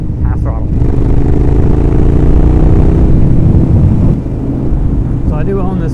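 A 2012 Ducati Monster 1100 EVO engine is revved to half throttle, a loud, close, deep rumble that swells then eases slightly, with a brief voice near the start and end.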